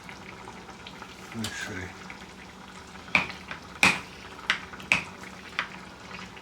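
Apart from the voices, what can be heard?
bolognese sauce cooking on high heat and being stirred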